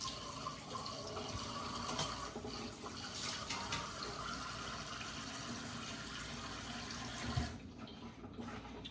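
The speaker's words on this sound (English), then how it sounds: "I'm gonna wipe this tray out because I don't want to go in there dirty." Running water from a tap splashes steadily while an air fryer tray is wiped out in a kitchen sink, a continuous close wash that cuts off near the end, leaving quieter handling.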